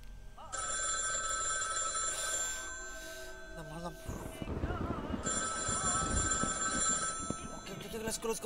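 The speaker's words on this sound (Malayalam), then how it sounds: "ഓക്കെ ഫോൺ പോയി എടുക്കണോ?" A telephone rings in the Iblis horror video game: two long, steady bursts of bright, trilling ring tones, separated by a gap filled with low rumbling background noise.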